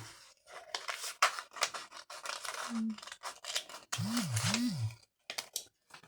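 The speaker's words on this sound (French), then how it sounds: "Là, je vais couper les petits cœurs." Small scissors snip tiny hearts out of transparent vellum, a rapid series of crisp, close cuts and paper rustles with short pauses between them, while a faint voice hums briefly.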